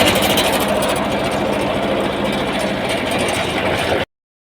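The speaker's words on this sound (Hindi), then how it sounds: "अभी मैं ट्रैक्टर पीछे ले लेता हूँ।" A tractor engine runs steadily and loudly during a cleanup job, a dense continuous mechanical drone with a knocking, rattling texture that carries on unbroken for about four seconds, then cuts off abruptly. Nobody talks.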